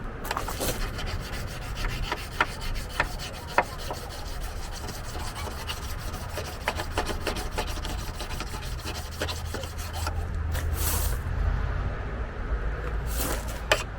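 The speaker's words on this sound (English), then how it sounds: "we're just filing it basically flat with the top of the blade" A hand file rasps flat across the top of a wood chipper blade in steady back-and-forth strokes, close and loud, with a few sharper scrapes and clicks along the way.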